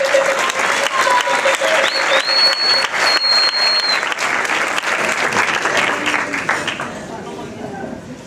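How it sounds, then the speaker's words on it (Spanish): Steady, loud audience applause fills a salsa competition semifinal in Argentina, broad and continuous before easing off near the end, with a voice carrying over it. "Fuerte el aplauso para Melody Uber."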